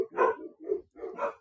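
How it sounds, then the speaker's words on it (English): Several dogs barking in excited bursts nearby, three loud clusters of barks with short pauses between them, no talking. "You might hear my dogs in the background."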